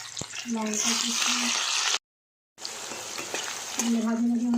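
Chopped chillies, ginger and garlic fry vigorously in hot oil while being stirred, giving a loud, close sizzle broken by a brief silent gap. A voice talks over the frying near the start and the end.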